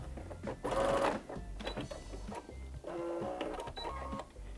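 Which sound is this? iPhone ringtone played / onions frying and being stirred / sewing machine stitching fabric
sewing machine stitching fabric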